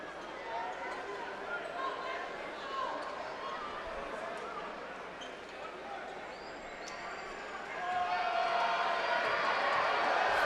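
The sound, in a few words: basketball crowd applauding player leaving court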